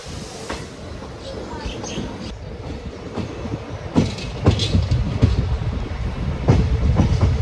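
A train pulls out of Vaniyambalam station on the Nilambur–Shoranur line, rumbling steadily with rhythmic clacks and knocks from the wheels growing louder as it gathers speed, heard from on board.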